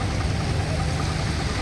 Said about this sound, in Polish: Traktor benzynowy.